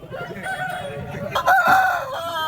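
Chickens and roosters calling at a poultry and rooster market in Vijayawada, close and fairly loud, with a rising crow-like call standing out amid busy bird noise and faint background voices.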